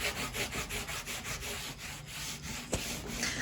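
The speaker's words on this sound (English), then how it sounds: "I'm just using a little rag just to put this stain on" A small rag rubs wood stain into porous, wood-burned furniture wood in steady back-and-forth strokes, a close, continuous scrubbing hiss with rhythmic pulses and one sharp knock near the end.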